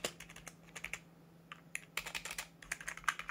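Keys clatter on a Connect IT computer keyboard in quick, uneven bursts of typing, close and crisp, with brief pauses between flurries over a faint steady hum.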